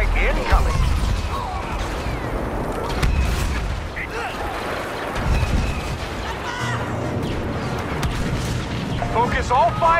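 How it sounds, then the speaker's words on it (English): Airstrike explosions boom and crash repeatedly in Star Wars Battlefront on Endor, heavy blasts mixed with gunfire and mechanical clatter under game voices. "Airstrike incoming."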